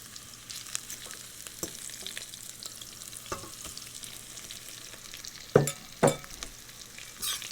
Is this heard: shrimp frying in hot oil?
yes